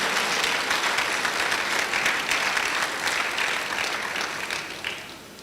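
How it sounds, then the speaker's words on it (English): An audience at a first-anniversary celebration and podcast compendium release gives a sustained round of loud, dense applause that fades slightly toward the end, with no speech over it. "can we give a round of applause to all the people who are here from Kagini and Kaba communities"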